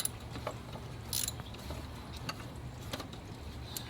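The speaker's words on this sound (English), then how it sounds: "I'm gonna be using 13mm socket, and it has two bolts" A ratchet with a 13mm socket works bolts on an oil filter housing of an E46, giving faint, sparse mechanical clicks and rattles close by over quiet background.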